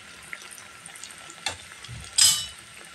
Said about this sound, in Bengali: আমার খাজাগুলো ভাজা হচ্ছে